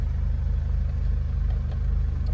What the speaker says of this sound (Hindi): अब गाड़ी को दोबारा स्टार्ट कर रहा हूँ खड़ी